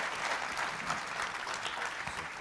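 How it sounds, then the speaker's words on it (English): Sustained applause from a conference audience for a panel of mayors and business leaders, a uniform wash of many hands clapping at moderate volume in a large hall, steady throughout without any voices over it. "give my panel a huge round of applause"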